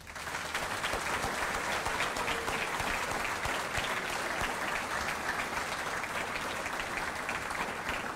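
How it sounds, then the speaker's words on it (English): Sustained, loud applause from a large audience at a police recruit academy graduation ceremony, dense continuous clapping filling the whole stretch without a break. "let's give the Academy class one more round of applause"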